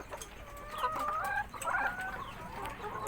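Laying hens cluck and cackle in a poultry house, several close birds making rising, chattering calls with steady barn hum beneath and a voice speaking faintly.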